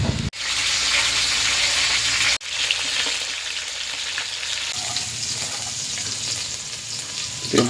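Papait greens sautéed in the oily pan used earlier to fry tilapia give a loud, continuous close sizzle with a sharp hiss as they hit the pan, then steady frying noise throughout.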